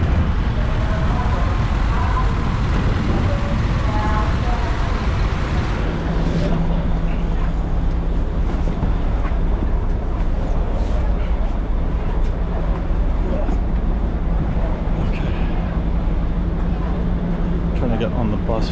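A bus climbs from the ferry port up to Fira on Santorini, its engine droning steadily beneath a dense, rumbling mix of road and crowd noise, with a low hum settling in midway and voices murmuring throughout.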